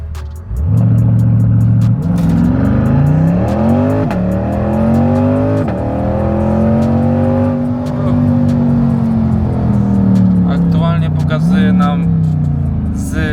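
A Liberty Walk Corvette accelerates hard on a closed road, its engine roaring loud and close with rising pitch through several gear changes, and someone talks over it.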